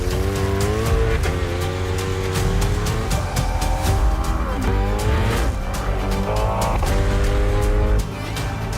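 A 2023 Chevrolet Corvette E-Ray, a hybrid with a 6.2-liter V8 and front electric motor, driving hard with a loud engine rising and falling through gears and tire squeal, close and continuous with no talk.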